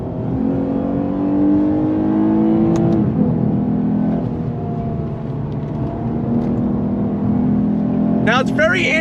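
A 2023 Lexus RC 350 F Sport AWD with a 6-speed automatic accelerates hard, its engine revving steadily upward toward 6,500 rpm in a loud, sustained, rising drone heard from inside the cabin, with a voice speaking over it.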